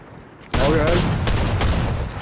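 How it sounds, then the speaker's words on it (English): Rapid gunfire in a video game bursts in after a quiet half second, a dense, loud volley of shots that keeps rattling for nearly two seconds. "Somebody's shooting. Someone have a gun."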